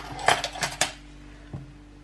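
A teaspoon of sugar goes into a bowl for stromboli dough: three quick light metallic clinks of spoon on bowl, then a single softer tap after a pause.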